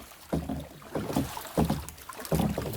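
Canoe paddles dip and pull through river water at a nature park in Suriname, with three stronger splashing strokes at a steady rhythm over light wind noise, close to the microphone.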